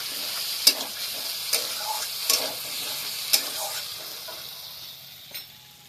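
Spice paste (masala) for paneer posto curry sizzles steadily in a pan while a spatula stirs it, with several sharp scraping clicks spaced through a continuous frying hiss.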